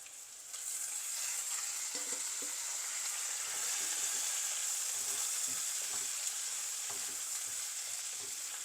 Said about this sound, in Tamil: இப்போ வெங்காயம் சேர்ந்து ஃப்ரை ஆகணும்